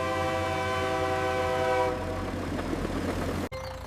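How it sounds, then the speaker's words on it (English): A train horn blares over a heavy rumble in a children's cartoon, then gives way to loud roaring rail noise that cuts off abruptly near the end. "The train is getting closer!"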